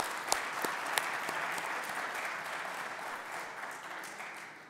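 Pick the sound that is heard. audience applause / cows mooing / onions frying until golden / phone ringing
audience applause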